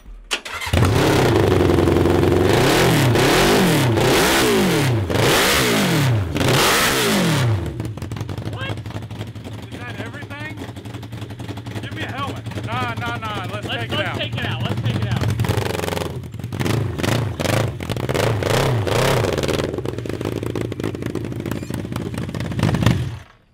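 A 750cc go-kart engine cranks, fires and revs hard in loud rising and falling sweeps, then settles to a rough idle with more bursts of throttle, while people talk nearby.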